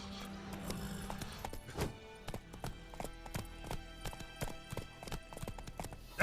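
Roach, a horse in The Witcher 3, trots with a steady, evenly spaced clip-clop of hooves, close and distinct over quiet game ambience, with a faint whinny early on and no voices.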